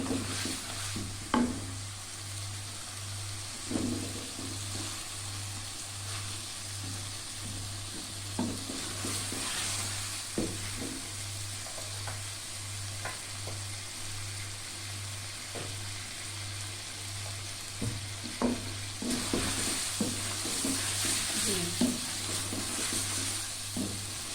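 Masala for Hyderabadi bhindi gosht frying in a pot, a soft steady sizzle broken by repeated scraping stirs and light knocks of a spoon, close with a low constant hum underneath and no talk.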